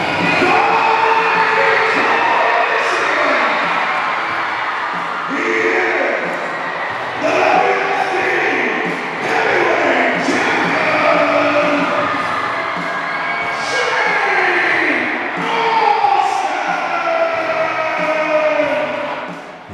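Wrestling arena crowd cheering and shouting continuously, loud and close, in waves for the champion's ring entrance, with a commentator talking over it.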